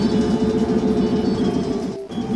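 A video game spaceship engine gives a steady, droning hum with a pulsing low rumble, loud and continuous, dipping briefly near the end.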